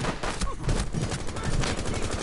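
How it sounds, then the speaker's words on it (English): Dense, rapid bursts of gunfire in the video game Rainbow Six Siege, loud and continuous through the short span with rattling automatic shots and faint voices mixed in. "Try to shoot through it."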